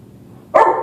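One sharp, high puppy bark bursts out suddenly after a quiet moment, close and loud, during a puppy training session.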